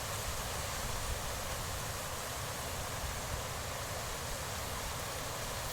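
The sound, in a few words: mountain torrent, rushing stream water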